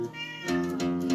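A cat meows once, a drawn-out, rising-then-falling cry heard up close.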